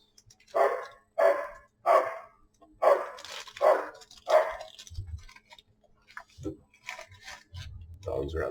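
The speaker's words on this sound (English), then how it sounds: "Dogs are out there trying to play." Several dogs outside bark while playing, a run of six or so evenly spaced, moderately distant barks followed by scattered yips and softer barks.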